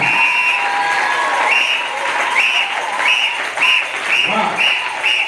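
Church congregation clapping for the choir and ministry workers at a revival service, continuous applause under a repeating sung or chanted tone, with a voice cutting in near the end.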